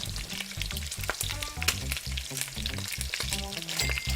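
Garlic and onion sizzle and crackle in a hot pan, a steady close frying hiss broken by light stirring scrapes.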